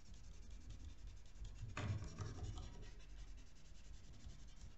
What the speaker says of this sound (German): oder mit dem Papierwischer.